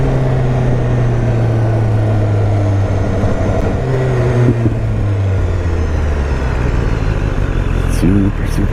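A BMW S1000R motorcycle on a test ride roars as it accelerates, its engine tone climbing and shifting under steady wind rush, with a rider talking over it.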